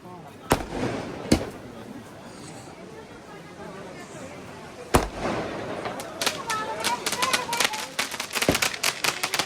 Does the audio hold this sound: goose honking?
no